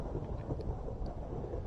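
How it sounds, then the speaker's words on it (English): Thunder after a lightning strike in Minecraft, a low steady rumble that stays faint and distant for the whole short stretch, heard alone without talk. "lightning just struck right at the top of that."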